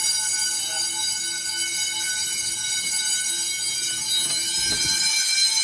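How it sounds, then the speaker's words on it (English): An elementary school's fire alarm bells ring during testing of a replacement addressable system, a dense, continuous metallic clangor that holds steady and loud throughout with no talking. "we're going to ring some fire alarm bells."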